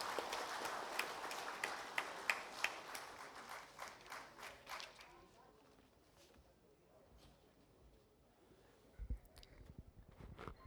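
Audience applauding a chairman at an awards ceremony inaugural session: a burst of clapping that fades out after about five seconds, leaving quiet room noise and a few bumps.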